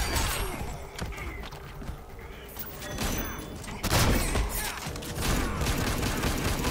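Deadshot's guns firing in the fighting game Injustice 2, rapid bursts of shots and thuds with a loud volley near the middle, under a lively game mix with some voice.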